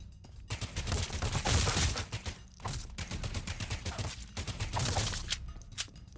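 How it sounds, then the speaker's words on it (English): A railgun-like sniper rifle firing in the video game Badass Hero among other loud bursts of in-game gunfire, coming in repeated dense volleys with short gaps, with no speech. "Look at that sniper. It's cool, it's like a railgun kills everything in one shot and keeps going"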